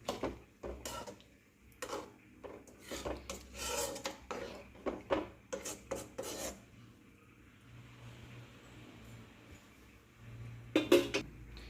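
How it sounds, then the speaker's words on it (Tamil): A spoon scrapes and stirs through dried fish curry (karuvattu kulambu) in a cooking pot, giving a run of close, irregular scraping strokes that stops partway, leaving a quiet low hum before a brief clatter near the end. "சேர்த்துட்டு ஒரு வாட்டி கிண்டி விட்டுக்கலாம்."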